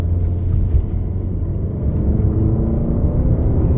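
An Alfa Romeo Giulia with a ZF 8-speed automatic circles Blackhawk Farms Raceway in the rain, its engine giving a steady, loud, close low drone with no clear revving peaks.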